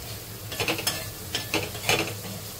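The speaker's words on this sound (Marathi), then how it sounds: "कांदा ना आपला मस्त इथे शिजतोय" Onion cooking in a pan on a tawa, heard as a soft, faint sizzle broken by several brief stirring scrapes and clinks at an uneven pace.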